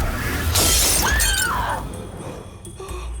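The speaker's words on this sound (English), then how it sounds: "It shattered into like a trillion pieces." Glass shatters loudly in a burst of bright, crashing noise, followed by a few scattered tinkling fragments as the sound dies away over about three seconds; no one speaks.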